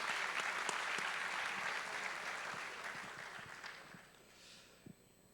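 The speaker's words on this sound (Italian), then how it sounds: "Un applauso, grazie." A crowd claps in sustained applause that stays fairly steady, then gradually fades, with a few sharp isolated claps near the end and a faint high tone in the background.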